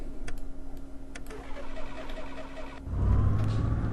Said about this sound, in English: I'm going to go ahead and start the engine again.